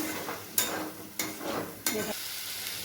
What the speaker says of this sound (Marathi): ते छान असं आपण थोडंसं परतून घेऊया